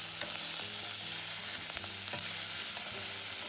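Large shrimp fry over high heat in a hot pan, giving a loud, constant sizzle with scattered scraping and stirring clicks close by.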